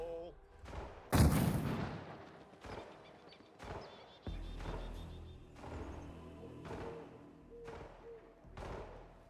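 Explosives detonating in the HITMAN video game, one big booming blast followed by a run of heavier thuds and shots over a steady game soundscape, with a voice talking over it.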